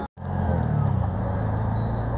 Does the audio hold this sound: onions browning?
no